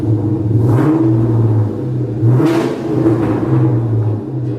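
An upgraded 1996 Ford Mustang Cobra with its engine sticking out through the hood revs loudly up close, a deep rumbling growl that swells and falls in several throttle blips with no talking over it.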